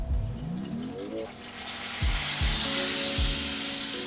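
Welsh lamb cannon sizzling in a hot pan as it is flipped, a rising hiss of frying fat heard close alongside several low thumps and scrapes from the turning, with no talk.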